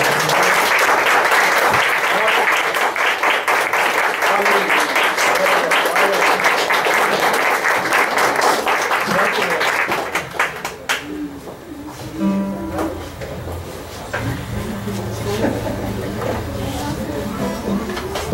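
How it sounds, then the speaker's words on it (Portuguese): A church congregation claps in praise with rhythmic, sustained applause for about ten seconds. Then the clapping drops away and someone speaks over the room. "você pode continuar louvando ao Senhor com as suas palmas"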